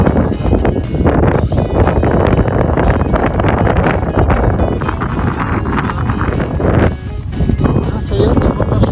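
Strong outdoor wind buffets and roars across the microphone in gusty, continuous rushes, loud and close, while a person talks over it.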